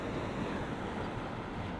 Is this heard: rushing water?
yes